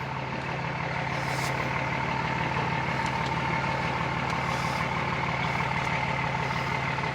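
A 5.9 Cummins diesel in a Mega Cab truck drives with the windows down, its engine drone steady and loud throughout, with no talking.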